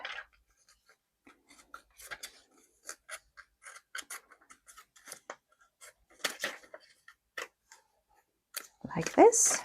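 Scissors snip through paper for planner stickers in a quiet room, a string of short, crisp cuts with pauses between them, ending in a louder rustle of paper being handled.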